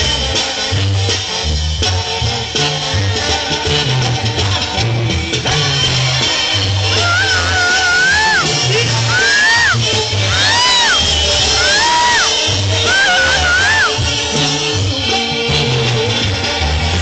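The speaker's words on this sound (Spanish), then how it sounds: "Para todas las chicas gritonas." Girls in a concert crowd scream and whoop in high wavering cries over loud live music, the shrieks rising repeatedly through the middle of the stretch.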